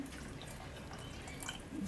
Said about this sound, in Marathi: थोडं पाणी ॲड करतो